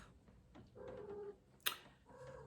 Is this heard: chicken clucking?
no